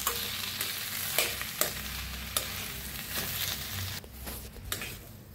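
Vegetable filling for vada pav stirred in a hot pan, a steady sizzle and fry with scraping strokes of the spoon, close and fairly quiet.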